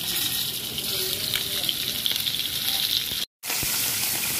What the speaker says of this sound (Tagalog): Mag-add na naman tayo ng another batch sa ating piniritong isda niyan.